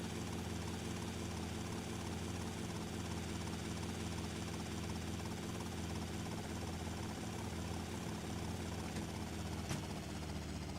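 A helicopter in the video game GTA Vice City flies on, its rotor and engine drone steady and constant with no break. The drone fills the whole stretch and no one talks over it.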